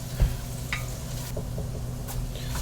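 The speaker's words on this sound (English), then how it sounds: "we're introducing the onions to the pan a little bit at a time so they can start to cook and break down" Onions dropped a little at a time into a hot pan, a soft steady sizzle with a few scraping stirs, low in level and without talk.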